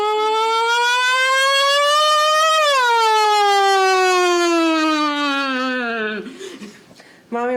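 A voice imitates a wailing siren, a sustained tone rising, swelling and then sliding down and fading, loud and close, ending in a brief breathy laugh.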